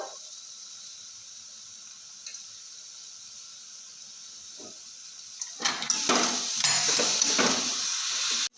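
Filling for pitha, a stuffing with crushed cardamom seeds, is stirred in a pan over a gas flame, first as a faint steady sizzle and then as a louder run of scraping, stirring strokes near the end.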